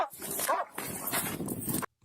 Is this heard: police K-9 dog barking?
yes